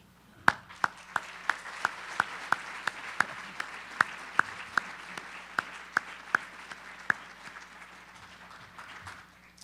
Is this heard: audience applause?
yes